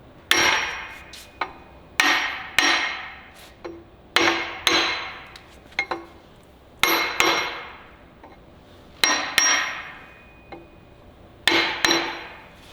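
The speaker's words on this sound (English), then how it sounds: "Just bump them a little bit with the hammer." Sharp metallic hammer taps ring out in irregular pairs and singles on a Ford flathead V8 engine, each with a brief ringing decay, close by and with no speech.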